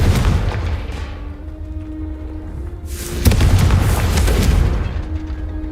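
Confringo fire spell in the Hogwarts Legacy video game, a loud booming blast with a rumbling tail, followed by a second heavy explosion burst that decays over a couple of seconds.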